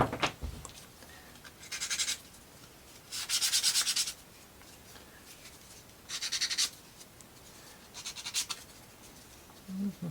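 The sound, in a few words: sanding wooden UGEARS marble run parts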